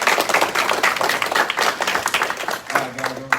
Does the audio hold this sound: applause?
yes